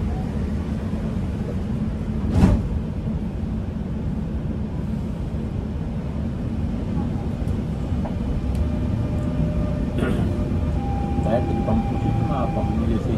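A Dubai Metro train's doors close with a short sharp knock, then the carriage pulls away in a steady, loud rolling rumble, with faint whining motor tones rising toward the end.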